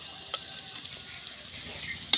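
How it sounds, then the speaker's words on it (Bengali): Potatoes fry in hot oil with a soft, steady sizzle and a few brief stirring clinks, close and fairly quiet. "লাল লাল করে আলুটা এইভাবে ভেজে নিয়েছি লাল লাল করে।"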